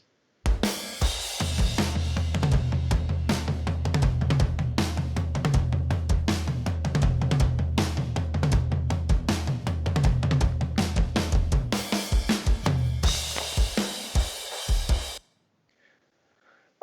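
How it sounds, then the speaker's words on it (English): A full drum kit plays steadily and loudly, heavy low tom hits rolling under bright cymbals, then cuts off abruptly into near silence. "let's listen to the drums now in that same little section with those toms"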